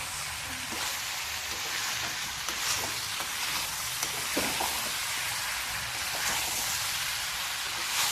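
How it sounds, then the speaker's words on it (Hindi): Potatoes, carrots and peas frying in a pan over a high flame: a loud, continuous sizzle with a few scraping stir strokes, close by and without speech. "अब तेज गैस पे इसको जरा से भून लेंगे अच्छे से।"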